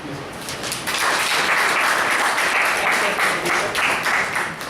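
An audience claps steadily for the evaluators at a Toastmasters evaluation session, a dense, sustained round of applause with no pauses.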